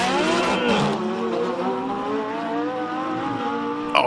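A Lamborghini races up a hillclimb course, its engine note rising and falling in a loud, sustained howl through gear changes, with a brief sharp burst near the end.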